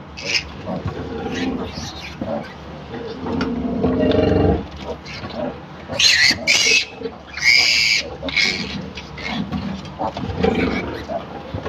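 A piglet held by the ear for vaccination squeals in loud, shrill bursts that come and go over several seconds, with rustling and low handling noise in between.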